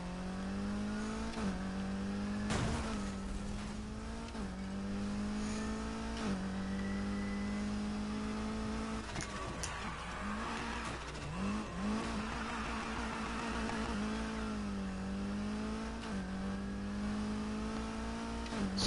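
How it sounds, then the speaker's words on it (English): A hypercar in the Need for Speed racing game revs and accelerates with a loud, continuous whining engine note that rises repeatedly through the gears, jet-like and steady throughout. "This hypercar sounds like a jet when it picks up speed."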